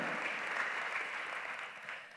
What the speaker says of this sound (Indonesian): Tepuk tangannya boleh yang paling meriah buat Yesus Tuhan kita